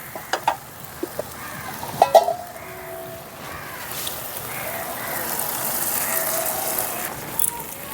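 Boiled lentils are poured into a fried spice mix in a pan and stirred, giving a few sharp utensil knocks early on, then a soft rising sizzle and gush.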